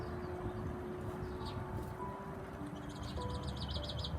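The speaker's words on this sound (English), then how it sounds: "Hear those birds?" Birds chirping outdoors, faint distant tweets and a short repeated trill against a low steady background rumble, no talking.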